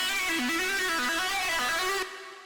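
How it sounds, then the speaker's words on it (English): A bright, buzzy synth arpeggio steps through a short repeating note pattern, loud and alone, then cuts off and leaves a fading tail. "here's this little ARP sound that sounds like this"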